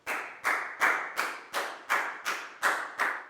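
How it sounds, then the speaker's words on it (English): A Year 4 math class claps for a student, nine evenly spaced, unison claps in a steady rhythm, each a crisp burst that decays quickly before the next, fairly quiet and without voices. "a big round of applause for Lakgao"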